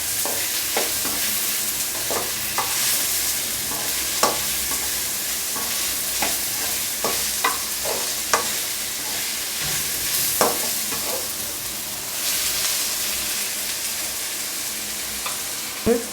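Tomatoes stirred into a sizzling onion, ginger and garlic masala for vada curry, with steady frying hiss and repeated scraping spoon strokes against the pan, close and alone.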